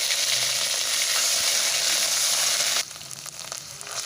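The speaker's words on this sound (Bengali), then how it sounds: "এবার সেই বাটা মশলাগুলো দিয়ে দেব প্রথমে দিলাম পেঁয়াজ বাটা" Onion paste dropped into hot oil with cumin seeds and dry red chilli, giving a loud, dense sizzle that cuts down abruptly to a quieter frying crackle partway through.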